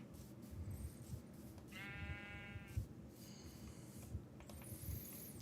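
Minecraft sheep bleat a few times in the game, the calls distinct but quiet over a low steady background with no talking.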